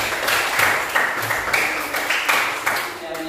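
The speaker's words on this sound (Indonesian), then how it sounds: "Oke, tepuk tangan untuk lihat." Classroom applause from a group of students, a brisk patter of many hands clapping with a rhythmic beat, close and filling the room throughout.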